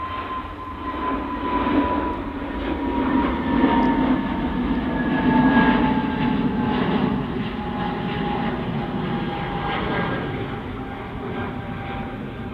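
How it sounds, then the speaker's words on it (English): An EasyJet airliner taking off from runway 23 right at Manchester Airport, its engines building into a rising roar with a whining tone sliding across the sound, swelling and then holding as it climbs away, no voices. "EasyJet's just rotated off 23 right."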